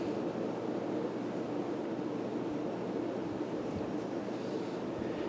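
A Casablanca Delta II ceiling fan in dusty rose moves a lot of air, giving a steady, soft whooshing rush that stays even throughout, with no talking.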